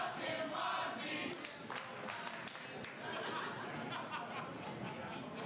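Crowd noise at a New Texas Pro Wrestling TX8 tournament event, a steady, dense roar of voices reacting to a wrestler throughout, with scattered shouts rising out of the din.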